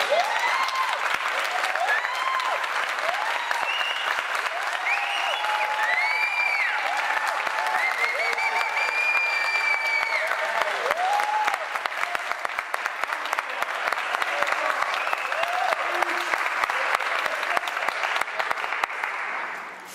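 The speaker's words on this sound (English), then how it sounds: "I'm waiting for the applause." Sustained applause from a seminar audience carries on for the full length, steady and full, with some voices and chatter mixed into the crowd.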